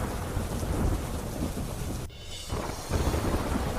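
Heavy monsoon rain pours down in a dense, constant roar, with rumbling thunder mixed in and a brief dip in the downpour partway through.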